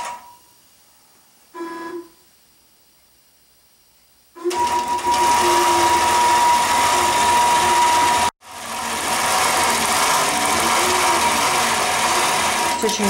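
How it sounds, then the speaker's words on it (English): A computerized quilting machine stitches an edge-to-edge pattern. After a quiet start with a short mechanical blip, it starts up loud and close, running at a steady hum, halts for an instant, then resumes stitching. "then it will start stitching the pattern in this section"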